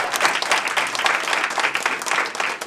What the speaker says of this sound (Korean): 이 대목이면 박수가 한 번쯤.